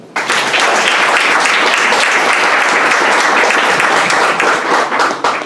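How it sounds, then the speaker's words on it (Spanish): Loud, close audience applause at a Spanish-language event about the Special Synod for the Amazon region, bursting in abruptly and continuing as a thick, steady roar of many hands clapping until it tapers slightly at the end. "Un aplauso"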